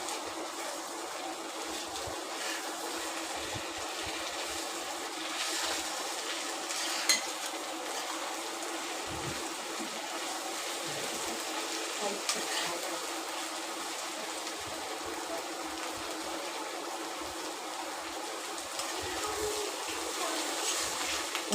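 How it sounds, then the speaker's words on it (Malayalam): Onions sauté in a pan for Malabar beef biryani, a soft, continuous sizzle with occasional scraping stirs and light clinks, fairly quiet and unbroken by talk. "സവാള നല്ലവണ്ണം വഴറ്റി എടുക്കണം"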